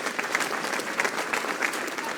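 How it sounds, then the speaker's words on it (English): Audience applause at a university national dialogue event in a hall, a steady stretch of dense, fairly quiet clapping from the crowd with no voices over it. "Please let's welcome Seprewa with a round of applause"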